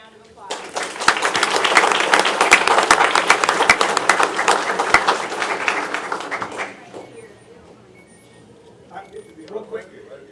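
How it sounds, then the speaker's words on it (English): Loud, dense applause from a city commission meeting audience in Harlingen honoring coaches and a team, sustained for about six seconds before tapering off into quieter room sounds. "Can we give them another round of applause?"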